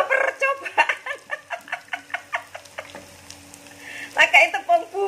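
Senikir (kenikir) leaves coated in seasoned flour batter fry in hot oil, giving a steady crackling sizzle with rhythmic bursts of spatter, close and fairly loud, no talking.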